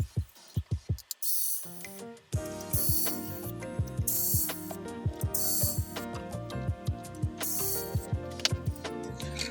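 Rapid ratcheting clicks of a screwdriver loosening screws from the metal shroud on a Super Nintendo main board, in quick repeated bursts with brief pauses and occasional metallic taps.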